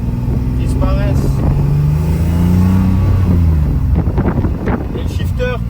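A BMW E30 with a 3-litre engine revs loudly and close, its pitch rising and falling through several pulls, with a voice briefly audible over the engine.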